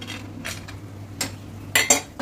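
Bengali lentil dumplings (bori) are stirred in a frying pan, giving scattered metallic clinks and scrapes of a spatula against the pan over a faint low background hum, with little audible sizzle.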